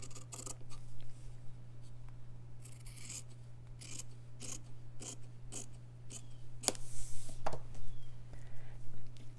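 Scissors snip through fabric, likely green cloth over muslin, in a craft session: a quick run of close, crisp cuts in separate bursts against a steady low hum.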